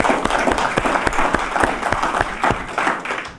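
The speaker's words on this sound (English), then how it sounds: "I'm clapping for you." An audience at a space medicine summit lecture breaks into applause, a dense burst of many hands clapping in a hall that fades slightly toward the end.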